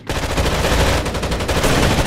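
Sustained automatic gunfire from the shooter game Rainbow Six Vegas 2 rattles in a loud, close burst of rapid shots lasting about two seconds, with no speech over it.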